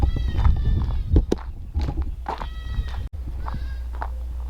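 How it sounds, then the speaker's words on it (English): Kiko goats bleating in a pen on a cold southern Oklahoma winter day, several loud, close, wavering bleats in quick succession with short gaps between them. "let's go check on the goats."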